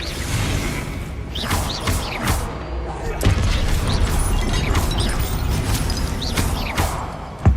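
Repulsor spell being cast in Hogwarts Legacy, a dense run of magical whooshes, crackling bursts and thuds that stays loud throughout and is layered over a busy game soundscape.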